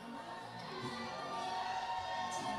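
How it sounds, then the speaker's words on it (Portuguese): A crowd at a festival's queen selection pageant cheers steadily for a candidate, a faint, distant wash of shouting and whooping voices with no clear individual words. "Vamos ver como é que está aí a torcida."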